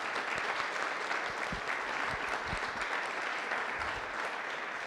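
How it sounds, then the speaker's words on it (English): A gathered crowd honoring the Rolling Greens people applauds in a steady, dense patter of clapping at moderate distance, sustained evenly throughout with scattered sharper claps and no speech. "Can we have a round of applause for the Rolling Greens people here today?"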